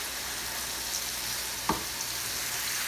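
Chicken sizzles steadily in a pan alongside leftovers, bacon and calabaza Mexican squash, a close, even hiss broken by one sharp clack partway through.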